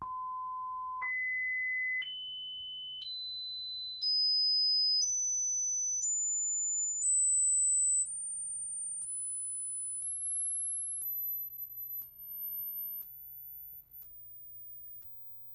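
Pure sine test tone from audio test equipment checking a vintage Heathkit preamp, rising in distinct one-second steps from low to very high pitch over about fifteen seconds, clean and steady with no voices.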